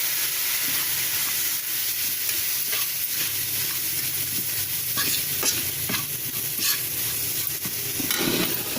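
Spiced, roasted masala for mango pickle being stirred and mixed in a pan, with a close, continuous sizzling hiss and several soft scraping strokes of a spoon, no voices.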